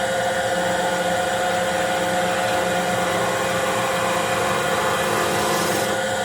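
A skew chisel taking a planing cut on spinning wood on a wood lathe while a wooden mallet is turned, giving a steady whirring hiss with a constant tonal hum, loud and unbroken, without talk.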